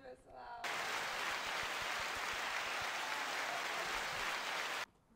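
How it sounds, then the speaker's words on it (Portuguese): A studio audience bursts into loud, sustained applause to welcome a guest on a morning Bible talk show, the clapping steady and dense for about four seconds before cutting off, with brief talk just before it. "quero que você receba com uma salva de palmas o nosso convidado dessa manhã, Vinícius Nascimento."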